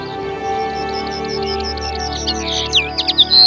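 Birds chirp and sing in a nature area at Plaines-Villes in Ploufragan, Côtes d'Armor, with a steady run of short repeated chirps that grows into louder, sharper calls near the end, heard alone over a quiet background.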